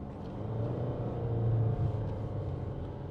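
A 2013 Toyota RAV4 2.2 D-CAT diesel with automatic gearbox shifted manually, its engine rumbling and briefly swelling in revs after a downshift, heard from inside the cabin as a steady low drone without talk.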